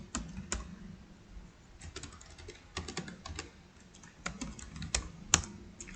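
Rapid, uneven keystrokes on a computer keyboard while an order of nasi bakar and coffee is entered into a desktop cashier program, close and clear with no talking.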